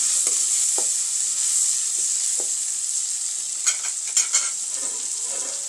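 Tomato puree stirred into frying turmeric and red chilli powder for a stuffed gunda curry, a bright steady sizzle under soft spoon strokes, with a few louder scrapes toward the end.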